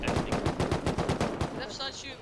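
Rapid automatic gunfire from the Rust video game rattles out in a fast burst of about a dozen sharp, even shots over roughly a second and a half. A short metallic ringing tail follows.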